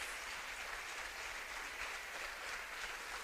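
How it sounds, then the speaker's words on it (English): Audience at a London poetry slam final applauding a poet, a steady, dense wash of clapping that holds evenly throughout with no voices over it. "Applaud the poet,"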